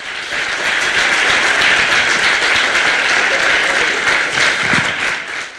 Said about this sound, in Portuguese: damos um aplauso ao Senhor por isso